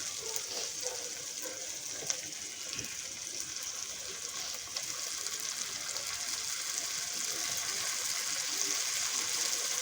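Prawns for gongura curry fry in a pan with a steady, even sizzling hiss that continues without a break and grows slightly louder toward the end.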